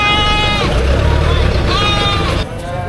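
A goat bleats loudly and repeatedly at close range at a livestock market where cattle, goats and water buffalo are sold, the long wavering cries running over constant background noise.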